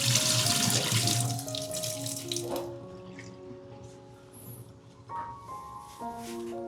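Water runs from a tap into a basin to soak fruit in salt water, a steady splashing flow under clinking and dish sounds, fading lower midway before a few sharper knocks near the end.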